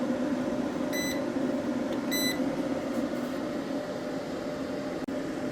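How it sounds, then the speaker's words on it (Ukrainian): A hybrid solar inverter running without a battery sounds two short, bright electronic beep bursts for an overload error, about a second apart, over a steady low electrical hum and background noise. "Помилка е, з'являється, пищить, але автомат не вирубає"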